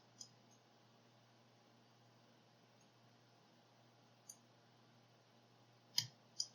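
A few faint, sharp clicks from a Mul-T-Lock Interactive lock being picked: one isolated tick midway, then a tight cluster of small metallic clicks near the end, over a quiet low background hum.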